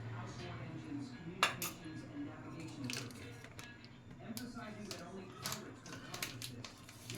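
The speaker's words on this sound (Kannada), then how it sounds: "ಈಗ ಟೀ ಪುಡಿ ಹಾಕ್ತೀನಿ." A spoon scoops tea powder into a pot of milk on a stove, making sharp metallic clinks and taps in irregular bursts, close and clear, while someone talks.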